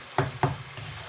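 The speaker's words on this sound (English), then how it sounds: "I'm gonna cook this for a few minutes until the keema and the spices are fully cooked" Keema mince and spices fry in a pan under a soft, constant sizzle, broken by two quick scraping stirs close together and a fainter third one.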